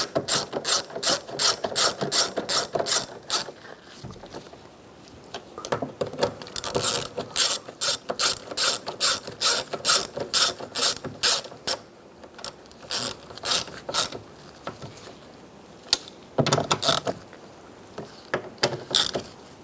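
A ratchet snugs up the mounting nuts of a driver's side mirror on a 2011–2015 Chevrolet Cruze, with loud, close bursts of rapid clicking repeated over and over with brief pauses between runs.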